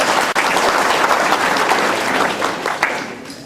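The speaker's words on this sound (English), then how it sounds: "You should give yourselves a round of applause because people did a tremendous amount of work." A press-conference audience gives a dense, sustained round of applause, loud and steady throughout with no one speaking over it.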